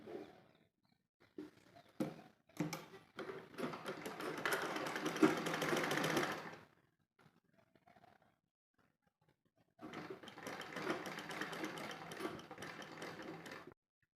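A sewing machine stitches a double seam on baby shorts, running in two long bursts of steady rapid whirring separated by a quiet pause, with a few short starts and stops beforehand, close and moderately loud.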